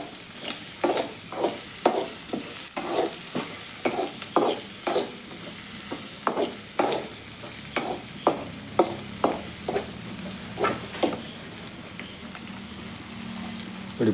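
Shallots and green chillies frying in oil for an egg fry, a constant sizzle punctuated by regular rhythmic scrapes of a spatula stirring the pan.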